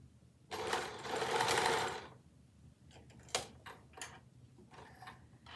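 A clattery sewing machine runs in one loud burst of stitching while bunting is sewn, then stops, leaving a few light ticks and knocks from handling the fabric.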